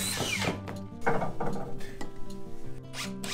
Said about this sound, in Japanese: 釣り木は75のビスで留めてあります。